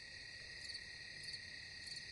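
Crickets chirp at night in a dense, continuous high-pitched trill, with a few louder pulsing bursts rising over a low, quiet background hum and no voices.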